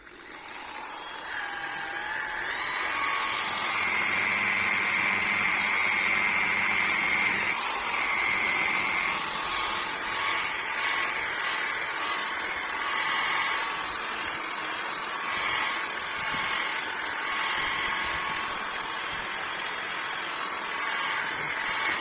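A power polisher buffs a scratched motorcycle plastic side panel, with a loud, continuous high-pitched motor whine that rises at the start and holds steady for over twenty seconds, with slight shifts in tone as it presses against the plastic.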